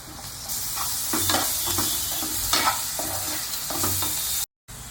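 Onions sizzle in an oil-filled pan with ginger paste and turmeric for a hotel-style chicken leg curry, under a steady frying hiss broken by repeated scraping stirs, close up with no talking and a brief dropout near the end.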